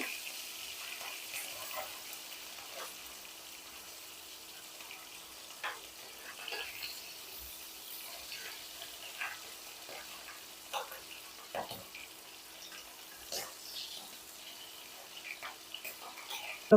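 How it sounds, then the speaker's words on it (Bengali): A steady, soft hiss of tengra fish frying in oil runs throughout, with occasional faint crackles and spits, continuous and fairly quiet. "মাছগুলো ভেজে নিব"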